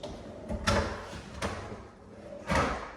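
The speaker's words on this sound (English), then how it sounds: "And then also the pull-out drawers." Pull-out drawers in a new home's built-in storage slide open and shut three times, each a close rolling glide ending in a soft thud, with quiet gaps between.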